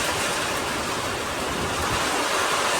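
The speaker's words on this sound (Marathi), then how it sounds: "पाऊस वाढतच चाललेला आहे कमी व्हायचा नावच नाही घेत" Heavy May storm rain, with strong wind, pours down in a dense, steady roar with no pauses, loud and close throughout.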